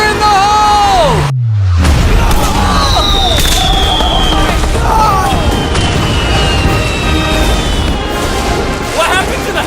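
Massive barrage of fireworks set off to blow up a house, a dense continuous roar of crackling bursts, booms and whistling rockets right after a deep thud, with people shouting and whooping over the blasts throughout.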